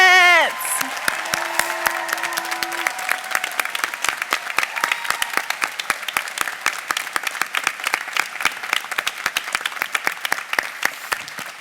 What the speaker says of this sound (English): Let's have a big round of applause for our graduates.